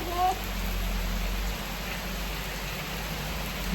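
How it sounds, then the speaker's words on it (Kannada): Dense, steady rain hiss filling the whole clip, with a low rumble underneath and a brief faint tone at the start. "ಜೋರು ಮಳೆ"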